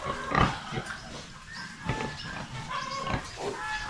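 Pigs on a small farm grunt and snort in short irregular bursts, moderately close, with a low rumble of the pen around them and no talking.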